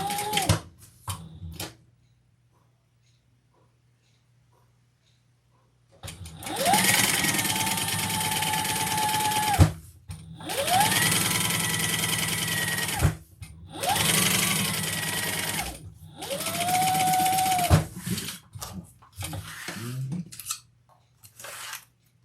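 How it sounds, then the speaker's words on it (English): Sewing machine top-stitching a leather and vinyl crossbody bag, running in three or four sustained bursts separated by short pauses, close and fairly loud, with light handling noises between runs. "And fold that all up and top stitch."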